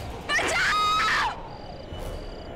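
A woman's scream in a Hindi TV horror drama, a loud, wavering high cry lasting about a second, followed by a faint thin tone and quiet background.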